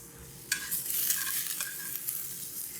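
Vegetables frying in a pan for a vegan basil pesto pasta, a loud sizzle that flares as they are stirred, with scraping stirs close by and no talk.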